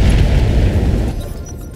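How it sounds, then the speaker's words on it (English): A building collapses in an explosion in the Battletech video game (RogueTech mod), a loud deep booming rumble that holds steady and then slowly fades over under two seconds, with no talk. "That building right there is about to go down."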